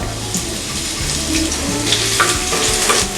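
Garlic cloves sizzle and crackle in hot oil while being stirred for a vegetable sizzler, a busy close-up frying hiss with scraping and popping bursts.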